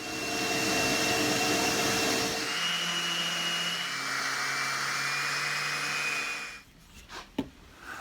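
A random orbit sander works on wood, a loud, close, steady whine with a shifting pitch as the pad is pressed, then cutting out near the end, followed by a few faint knocks.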